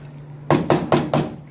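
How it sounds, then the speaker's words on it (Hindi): A pressure cooker lid is pushed shut and locked over a pot of kala chana in a home kitchen, giving four sharp metallic clacks about a quarter second apart, close and loud over a faint steady hum. "तो ये मैं अपना बंद कर रही हूँ कुकर को जी"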